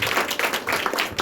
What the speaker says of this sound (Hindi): जोरदार यीशु के लिए हम ताली बजाएं।